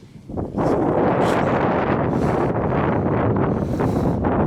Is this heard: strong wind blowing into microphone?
yes